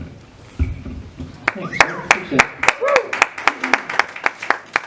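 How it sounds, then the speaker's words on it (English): Sparse, scattered clapping from a small audience at a Knights of Columbus candidate forum, a handful of distinct claps in loose rhythm with voices talking and murmuring alongside. "Give another round of applause for my Knights of Columbus brothers"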